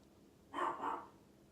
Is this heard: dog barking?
yes